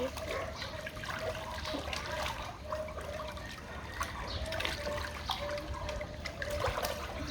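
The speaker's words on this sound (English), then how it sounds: "I'm gonna swim. Okay, let me swim." Video game character swimming through water, a continuous splashing and trickling wash with small bursts, steady and moderately close, no voices.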